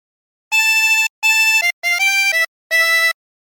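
A reedy 20-hole tremolo harmonica plays four short sustained notes from the melody of Wellerman, each separated by brief gaps, with a slight wavering quality and no voices.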